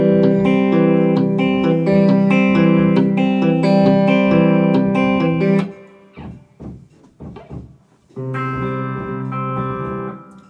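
Fingerpicked acoustic guitar in a Travis-style alternating thumb pattern, ringing steadily for several seconds, breaking into a few sparse plucks and sounds, then resuming the rolling pattern.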